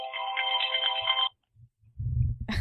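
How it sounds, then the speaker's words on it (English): A mobile phone ringtone chimes with a bright repeating melodic tone for over a second, close and clear, during a recorded discussion on innovation and U.S. competitiveness, then cuts off, leaving faint low rumble and handling noise. "That's your phone, I take it."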